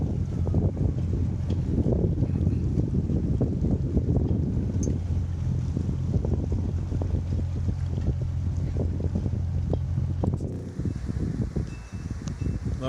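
Small boat motoring away on the Intracoastal Waterway near Florida's Halifax River, a steady low engine drone under wind buffeting the microphone and water rush, the motor fading near the end.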